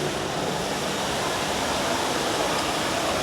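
Indoor waterfall in a luxury shopping mall, a steady broadband rush of falling water that fills the whole clip at an even level, with no voices standing out.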